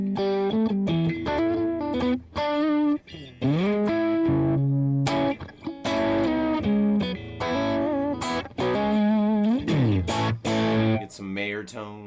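A Fender Nashville Telecaster electric guitar on its second pickup position plays bright, sustained melodic phrases with bends and slides, loud and up close, with a slightly driven, effected tone over a continuous run of notes.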